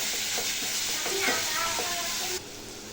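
Spices, chili powder, salt, turmeric, coriander powder and yogurt stirred together in a hot pan, with a steady sizzle and faint scraping of the spoon, close and alone.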